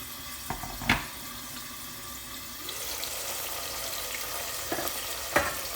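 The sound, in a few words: hot boiling water added to oil rice in pot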